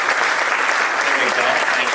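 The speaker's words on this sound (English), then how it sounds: "Give a nice round of applause." Audience applause fills a civic forum hall in Pensacola, Florida, for people running for or holding office: dense, steady clapping from a large crowd, close and loud throughout.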